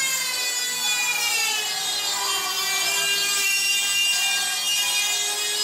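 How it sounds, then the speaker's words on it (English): A Dremel rotary tool cuts into a PC case panel, a steady high-pitched whine with layered tones and a gritty grinding edge that continues without a break, close and loud, with no talk. "Damn you, Dremel."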